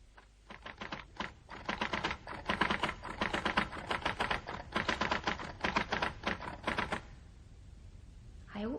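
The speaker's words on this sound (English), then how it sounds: "I couldn't possibly finish typing this engrossment tonight" Rapid, irregular clatter of typewriter keys from a typist working on a legal engrossment at night, a steady run of sharp strikes lasting about seven seconds before stopping, near and clear with no talking.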